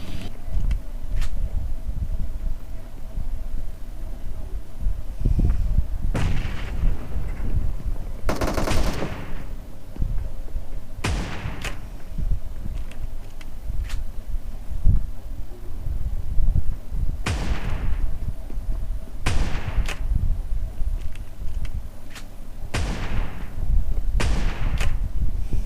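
Shotgun blasts in a battle royale video game fight, a series of sharp, loud bursts spaced a few seconds apart over steady game ambience, with no talking.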